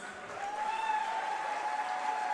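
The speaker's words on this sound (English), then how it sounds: "let's have the loudest round of applause" An audience in Pune applauds to welcome Sadhguru, a dense, steady wash of clapping that swells at the start and holds even, with no voices over it.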